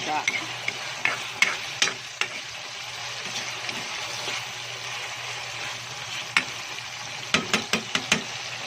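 Shrimp fry in hot cooking oil with a steady, close broadband sizzle, broken by a scatter of sharp stirring knocks and clacks, several bunched near the end.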